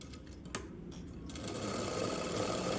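A sewing machine runs steadily, stitching the end of a folded cloth cone for a blouse tassel hanging; the motor hum starts softer and rises to a continuous, fairly loud whir.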